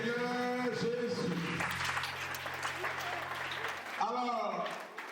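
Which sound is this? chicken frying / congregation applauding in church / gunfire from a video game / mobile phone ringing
congregation applauding in church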